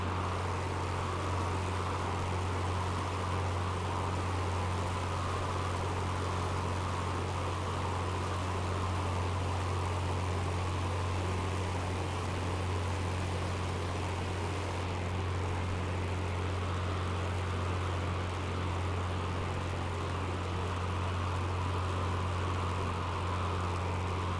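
Steady drone of a Spitfire's propeller engine in Microsoft Flight Simulator 2020, a constant low hum with broadband airflow hiss, unchanging and loud for the whole stretch, with no talk.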